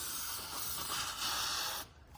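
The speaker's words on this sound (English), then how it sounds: "you're going to grab your lube and you're going to spray that exact same spot, so dead center of this track" Lubricant sprayed from a can onto the center of a screen track, a steady close hiss lasting under two seconds before it stops abruptly.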